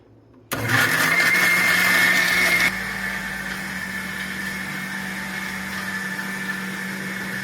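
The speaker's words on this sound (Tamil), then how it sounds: "கிரைண்ட் பண்ணிட்டு காட்டுறேன்." A mixer grinder grinding fish curry masala starts with a loud motor whine that runs for about two seconds, then drops to a lower, steadier hum that keeps going to the end.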